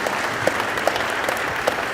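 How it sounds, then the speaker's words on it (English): A room full of people gives a big round of applause at a morning community meeting, steady close clapping with a few sharper individual claps standing out. "Let's give them all one more big round of applause."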